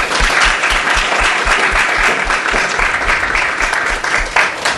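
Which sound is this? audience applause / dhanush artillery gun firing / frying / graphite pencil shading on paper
audience applause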